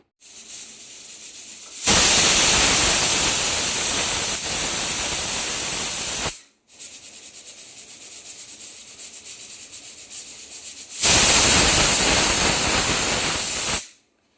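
Pressure cooker cooking mutton curry with potatoes releases two loud, sustained hissing whistle bursts of steam, the first lasting about four seconds and the second about three, with a quieter steady hiss between them and no talking.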